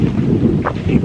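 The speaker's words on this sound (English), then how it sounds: "It's actually fairly windy right now," Steady wind blows at a park beside Royal Gorge, a deep canyon, buffeting a microphone fitted with a wind muff. The low, continuous rumble runs through the whole short stretch, close and fairly loud, with no voices.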